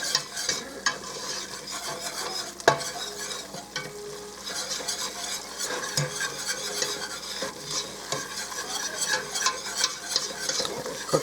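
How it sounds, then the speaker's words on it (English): A flour roux cooks in a soup pot, a spoon scraping and stirring through the thickening mixture with a soft sizzle underneath, the strokes steady and close throughout. "we want to cook that for a couple minutes too, to cook the flour out of it and brown it up a little"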